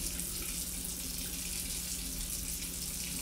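Tap water runs steadily into a sink while dyed hair is gently washed, a soft, even, continuous splashing rush with no voices.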